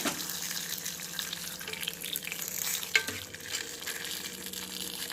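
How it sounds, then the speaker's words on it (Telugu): A hot tempering of dry red chillies, seasoning seeds and garlic is poured into bottle gourd moong dal, giving a steady, close sizzle and frying hiss with a brief clink partway through. "ఈ తాలింపు ఇందులో పోసేసుకోండి"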